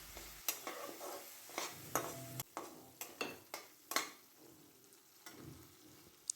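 Chili and ginger paste frying in a spice mix for dahi katla, with a utensil scraping and stirring the pan in a series of sharp, irregular knocks over a soft, steady sizzle, close and fairly quiet.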